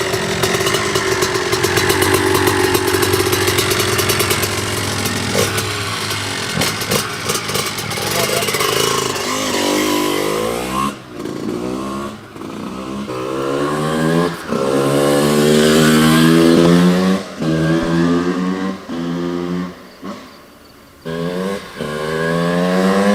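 A 1992 Honda CR125R two-stroke motorcycle engine idles with a rough rattling buzz, then revs repeatedly in rising and falling bursts, loud and close, with no talking.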